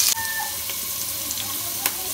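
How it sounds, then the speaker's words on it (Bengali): Small new potatoes, skins left on, frying in a pan of hot oil, giving a steady close sizzle with a few soft clinks of stirring, with no voices. "এখনও আমি আলুটা ভালোভাবে ভেজে ভেজে নিব।"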